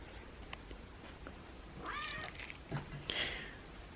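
A feral cat meows a few times, short and fairly close, while being fed kitten crunchies outdoors, with faint rustling around it and no talking.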